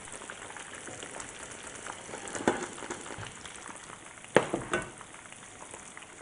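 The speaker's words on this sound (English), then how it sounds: "Add the meatballs to the pomodoro to finish off the cooking." Meatballs simmering in a tomato pomodoro sauce for spaghetti, giving a low, steady sizzle and bubbling with two brief louder clatters near the pan.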